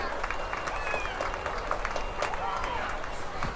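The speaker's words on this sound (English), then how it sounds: "Give Marv a round of applause, folks." A county fair grandstand crowd at a barrel racing event in Detroit Lakes, Minnesota, claps steadily for a rider, the dense patter running throughout beneath an announcer's amplified voice.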